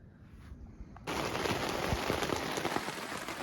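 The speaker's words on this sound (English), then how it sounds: "it just suddenly started pouring down with rain" Heavy rain abruptly bursts into a loud, dense downpour at an outdoor camp during a European cycling tour, jumping from quiet to a steady hiss and patter of drops that continues to the end.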